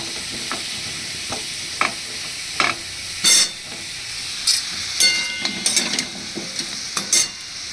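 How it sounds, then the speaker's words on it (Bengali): Chicken frying in a pan with potatoes tipped in: a steady sizzle with bursts of louder hissing and clattering stirring strokes, close and fairly loud, with no talking. "এবার দিয়ে দেবো এর মধ্যে আলুগুলো।"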